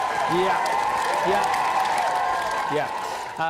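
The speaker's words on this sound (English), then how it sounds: "we must just big round of applause, please, audience, for Sam Kay" A studio audience applauds on a Friday night live television show, a steady, even wash of clapping that runs throughout, with brief tonal sounds and a voice rising over it near the end.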